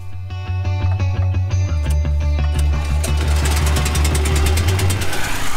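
A portable generator engine, used to power a well pump while restoring an abandoned house, runs loudly and steadily with a constant low mechanical drone and a faint knocking rattle throughout.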